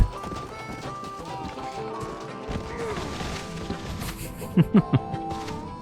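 Horse hooves in the Red Dead Redemption video game, a steady clip-clop beat under game music and ambience, with a few louder thuds near the end.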